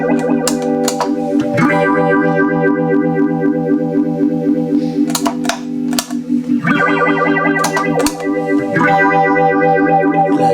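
An electric guitar runs through a Mu-Tron Bi-Phase phaser, loud sustained chords and picked notes swirling with a sweeping, chorus-like phasing, played continuously without talk.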